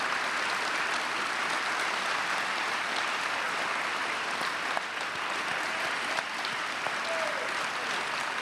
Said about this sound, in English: let us give you some applause and recognition for your service and sacrifice right here